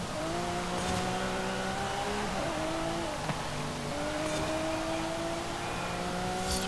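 A naturally aspirated V12 race car engine in Forza Horizon 5 drones continuously at high revs, with audible gear shifts stepping the pitch down and back up again as the car speeds through a point-to-point race on damp roads.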